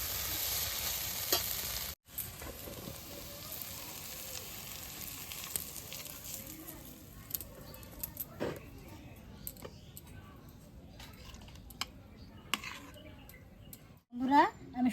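Arum stolon curry cooked with dried fish is stirred and fried in a village kitchen, giving a faint, continuous sizzle with scattered scraping clicks from the stirring and a louder clatter near the end; a voice talks at times over it.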